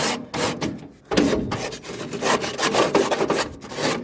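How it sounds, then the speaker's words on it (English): A piece of cardboard is rubbed back and forth across greasy BBQ grill heat plates, making a loud, close, continuous rasping scrape in repeated strokes with one brief pause. "This is perfect for getting rid of the grease here on these heat plates."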